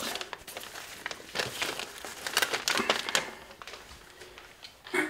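Packing materials crinkle and rustle close by as items from a MEGA65 DevKit unboxing are wrapped for storage, a steady run of soft crackling and crumpling with no talk.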